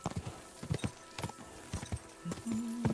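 Horse hooves thud and clop in a quick uneven run during a jump in Kingdom Come: Deliverance 2, a series of sharp impacts close up with a brief sustained tone near the end.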